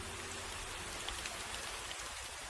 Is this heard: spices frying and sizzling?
no